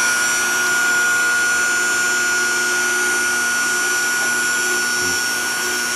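A vacuum unit runs steadily on a homemade wood gasifier system, giving a loud, constant whine and hum that holds for the whole stretch with a faint low thump near the end.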